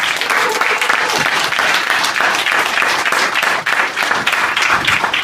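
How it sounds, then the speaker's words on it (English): Comedy-night audience at CultureHub Rotterdam gives a comedian a warm welcome, a dense, loud, continuous roar of clapping filling the whole stretch with little letup. "So I want you to give him a very warm applause."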